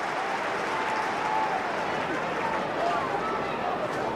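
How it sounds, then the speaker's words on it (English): Stadium crowd roars at an Australian football match between Hawthorn and St Kilda in 2011, a broad, continuous wash of cheering and noise sustained at a steady level with no break. "And the crowd finding voice early."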